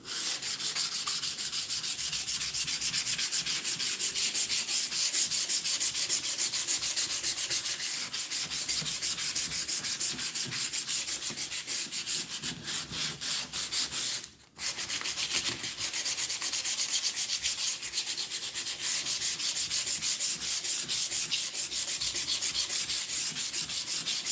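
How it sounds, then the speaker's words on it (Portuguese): Fine 220-grit sandpaper rubs back and forth over a small wooden house ornament coated with candle wax, a close, continuous scratchy rasp that pauses briefly near the middle, with no voices. "Vou pegar agora uma lixa. A minha lixa é número 220."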